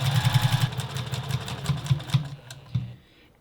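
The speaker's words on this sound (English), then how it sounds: "notice we are sewing closed the side that was open, the open side" A sewing machine stitches closed the open side of face mask straps, a rapid mechanical whir with a rhythmic needle pulse that runs close and loud, slows, and then stops.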